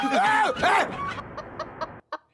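Cartoon chickens cluck and squawk in an animated Motu Patlu episode, with a few loud rising calls at first, then sharp short clucks spaced out before a brief silence and a final cluck.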